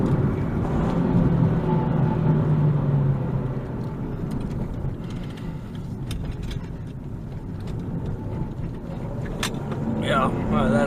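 A 2013 Nissan 370Z with a manual gearbox rolls over a bumpy stretch of road, its steady engine and road rumble running throughout. Light thumps come through the cabin, and a voice talks over the drone.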